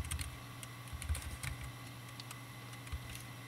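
Keys clatter on a computer keyboard while a plugin configuration file is written in code, a quick uneven run of close clicks with a few louder strokes.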